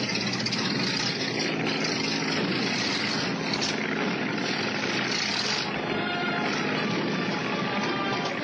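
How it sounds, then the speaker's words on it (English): A light aircraft's right engine runs rough in flight, a loud, steady, dense engine and propeller roar that fills the whole stretch without pause and carries no speech. "There's something wrong with the right engine."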